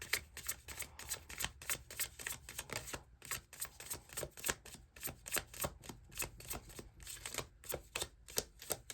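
Tarot cards are shuffled by hand in a quiet room, a rapid run of crisp riffling flicks and soft slaps repeating at a brisk, uneven rhythm, close and fairly faint, with no talk.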